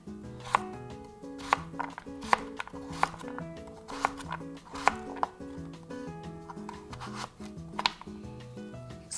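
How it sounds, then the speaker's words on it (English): A knife cuts a peeled carrot into pieces on a board with steady, rhythmic chops. The crisp, fairly quiet strikes repeat over soft background music. "peel the carrot and cut it into pieces similar in size to the daikon so they cook evenly"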